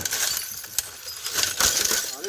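A sledgehammer strikes an old television set, giving a few sharp crunching hits and glassy clinks of breaking glass over a steady background hiss.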